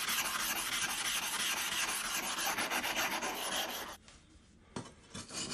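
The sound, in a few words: sword blade being polished on coarse grindstone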